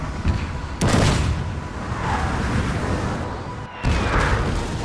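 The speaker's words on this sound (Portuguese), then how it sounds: "nossos canhões já estão atirando aqui" Heavy cannon blasts boom out at intervals over a constant roar of rumbling battle noise, loud and close, in the video game Napoleon: Total War.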